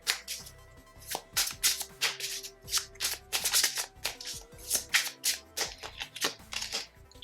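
Tarot cards being shuffled by hand, a rapid run of crisp riffling slaps and flutters repeating close up, with no voice over it.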